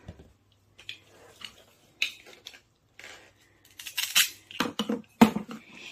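Toy knife chopping pretend vegetables and fruit such as a watermelon, onion and strawberry in a child's play set, a series of sharp plastic clicks and clacks, sparse at first and then quicker and louder near the end.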